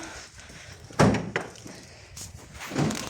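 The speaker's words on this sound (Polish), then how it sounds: "Chwilę sobie drzwi otworzę, bo trochę tu ciemno." Door being opened indoors, a couple of dull thuds and a brief creak-like scrape, fairly close and quiet, with a soft knock near the end.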